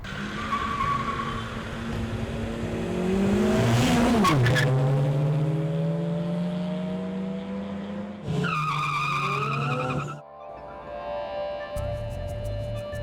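Car engines roar and rev at an illegal night street race on Macapagal Boulevard in Pasay, with loud rising revs, tire squeal and a sharp skid near the middle, then an abrupt cut to another engine hum.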